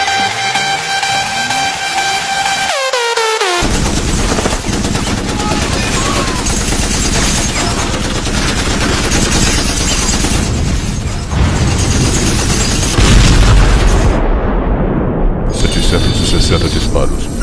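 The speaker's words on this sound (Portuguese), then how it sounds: "Disparos" Heavy-weapon gunfire rattles in long continuous bursts, loud and dense, with a brief pause and some mechanical clatter, all masking any other sound.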